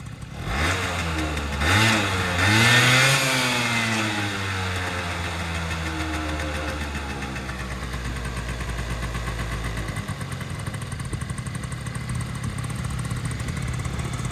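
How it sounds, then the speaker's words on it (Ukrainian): A Honda Dio AF-34 carburetted scooter engine revs briefly, then settles into a steady, close idle that runs on without speech. "наскільки працює тут чітко двигун"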